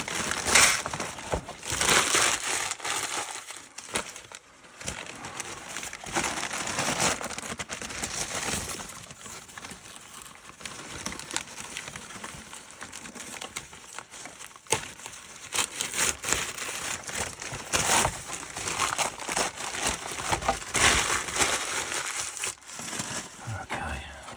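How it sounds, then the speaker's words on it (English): Masking tape peeled off a freshly painted body of a Tamiya Clod Buster radio-control monster truck, giving continuous close crinkling, crackling and tearing that rises and falls for over twenty seconds. "I do want to take off the masking on here."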